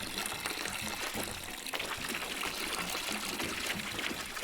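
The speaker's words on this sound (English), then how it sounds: "Let's pour this in then." In the Brewmaster beer brewing simulator, water pours steadily into a brew container, a continuous close splashing gush with bright trickling texture and no speech.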